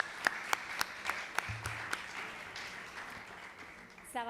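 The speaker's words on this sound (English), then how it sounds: "Big round of applause for all of you." Sparse handclaps from a small audience at a film festival awards press conference, about seven steady claps that thin out and fade, faint and somewhat distant.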